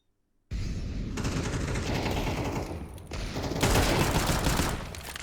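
A silenced M4A1-S rifle sprays in CS:GO, loud and continuous dense automatic fire that runs almost the whole time after a brief silent start, with no one talking.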